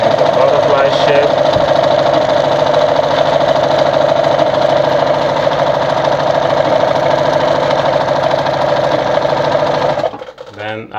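A Brother Pacesetter ZU2-605 sewing machine runs a continuous steady stitch, loud and close with a buzzing mechanical hum for about ten seconds before stopping, followed by a few small clicks.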